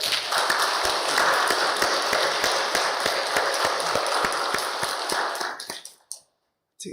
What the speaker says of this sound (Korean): 우리 아이들을 위해서 다시 한번 박수합시다